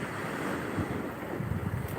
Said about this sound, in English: The sea came all the way up here to find me